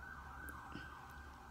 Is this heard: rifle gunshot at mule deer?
no